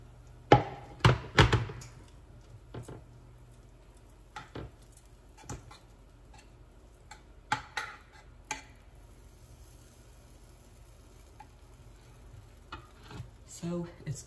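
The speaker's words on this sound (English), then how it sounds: "just take your spoon and sort of spread it around" A spoon scrapes and spreads a thick mixture around a glass dish in a series of soft, close knocks and scrapes. The sounds are strongest early on and then come as sparse quieter taps, with no talk.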